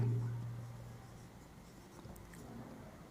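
Faint, quiet scratching strokes of point labels being written on a board during a maths lesson on maxima and minima, low against a soft room hum with no talk.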